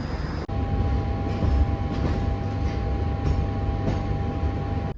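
Steady low rumble and hum of a train at a station, with a constant whine and faint clanks over the continuous drone, heard from close by without speech.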